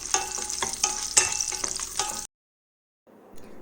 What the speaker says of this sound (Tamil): இப்போ இதை ரெண்டு நிமிஷம் ஃப்ரை பண்ணிக்கலாம்